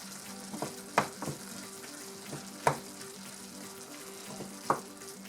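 Cottage pie mixture with mixed herbs being stirred in a pan, a steady low sizzle under a few sharp scrapes and knocks of the spoon against the pan at irregular intervals, close and moderately loud, no talking.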